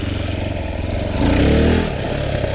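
A motorcycle revs up hard for a wheelie attempt on a green lane, the engine note climbing sharply for about a second and then falling back to a steady running drone, loud and close.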